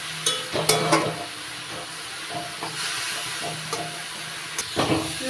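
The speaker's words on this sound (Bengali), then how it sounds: "এবার ভালো করে ভাজা ভাজা করে ভেজে নিচ্ছি।" Radish and green chillies fry in an oil-filled pan with a continuous hissing sizzle, broken by several crackling pops and scrapes as they are stirred, close by and alone without talk.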